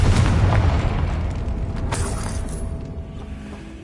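A Confringo explosion spell goes off in Hogwarts Legacy, a loud low boom with a broad blast that slowly fades over several seconds, with a few lighter magical crackles mixed in.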